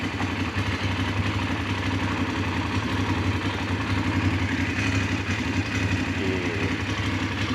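A VOGE DS900X motorcycle engine idles close by with a steady, even chug and light mechanical clatter, no talking.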